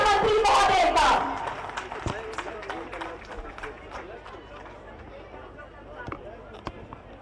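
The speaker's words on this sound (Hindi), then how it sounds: "जोरदार तालियों के बीच स्वागत कीजिए आदरणीय माननीय मुख्यमंत्री महोदय का" A crowd breaks into loud, dense applause to welcome Chief Minister Hemant Soren at a public event at Birsa Munda's birthplace. The clapping thins after about a second into scattered, sparser claps that continue at a lower level.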